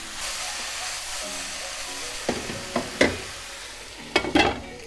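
Fresh porcini mushrooms sizzle in a pan as they are stirred, a continuous frying hiss broken by several distinct utensil scrapes and knocks toward the end.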